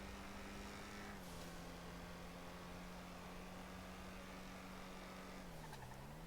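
Engine of a sports car in GTA 5 Online holds a steady drone with a smooth tone, dipping and rising slightly near the start and again near the end, heard alone without talk.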